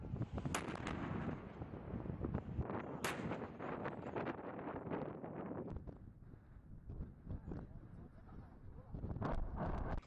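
Howitzer artillery fires live rounds at a high-altitude range in Tibet, 4600 m above sea level, with several loud, sharp booms in quick succession over gusty wind noise.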